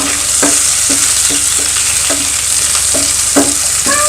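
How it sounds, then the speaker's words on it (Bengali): Cubed onions hitting a hot pan for a restaurant-style Chinese vegetable dish, a loud continuous sizzle broken by repeated scraping stirs at a steady rhythm, close up with no voices. "এখানে আমি যে দেখেন কয়েকটা পেঁয়াজ এইভাবে কিউব করে কাটা সেটা দিয়ে দিলাম।"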